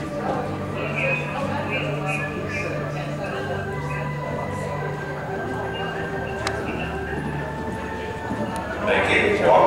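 Cantering hoofbeats sound in a horse show arena, a rhythmic clip-clop under the announcer's voice over the public address, with crowd ambience and a rise in noise at the end.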